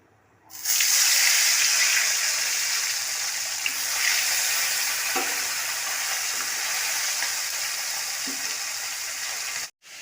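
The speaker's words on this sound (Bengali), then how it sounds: "এবারে আমি এক একটা করে মাছ ভাজা শুরু করব।" Pieces of bhola fish fry in hot oil in a wok, a loud, close, hissing sizzle that starts abruptly, fades slightly over about nine seconds with a few faint clinks, then cuts off sharply.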